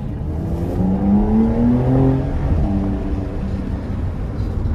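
A Porsche accelerating hard, with a loud, close engine drone whose tone climbs as it gains speed and then holds a steady roar, with no voices over it.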